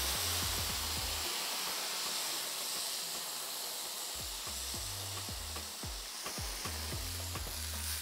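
Salmon sizzling and frying steadily in a hot pan after a splash of wine, a dense continuous hiss with scattered low thumps and scrapes of stirring throughout, no talking.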